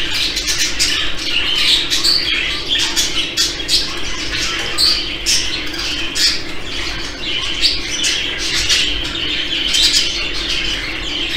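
Budgerigars in an aviary chirp and squawk in a dense, continuous chorus of overlapping shrill calls, loud and close throughout, with occasional wing flutters.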